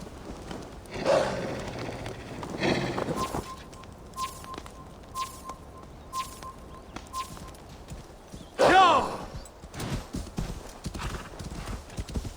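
Horse hooves clip-clopping in the video game Assassin's Creed Valhalla, a steady walking rhythm of hoof beats with a couple of louder rustling bursts and a snort, a voice speaking briefly.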